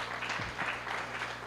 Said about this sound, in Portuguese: uma salva de palmas aqui para os nossos preletores